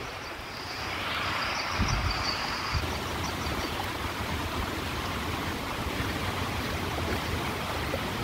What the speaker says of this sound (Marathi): एवढ्या जोरात मुसळधार पाऊस आलेला आहे की पूर्ण पाणी हे ओव्हरफ्लो होत आहे, पुलावरून वाहत आहे